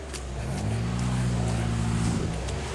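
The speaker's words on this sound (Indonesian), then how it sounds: "Ada mobil truk di belakang." A truck climbs close behind on a steep, rough track in Aranio, Banjar, its engine a loud, steady low drone with rising harmonic tones as it labours uphill.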